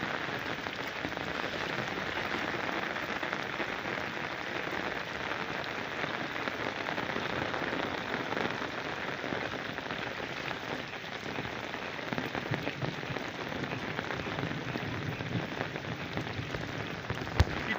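Steady rain pouring onto a field, a dense continuous hiss of drops with no pauses, even and unchanging throughout, with no voices.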